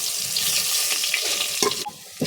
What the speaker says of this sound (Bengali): এখন আমি পেঁয়াজগুলো সব ভেজে নেব